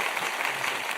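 Audience applause at a celebration event, a brief dense wash of many hands clapping steadily at moderate loudness.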